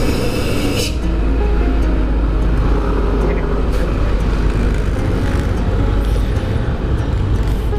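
Heavy trucks pass on the road between Bekasi and Bandung via Purwakarta, a loud, continuous, close-up roar of engines and tyres with no break.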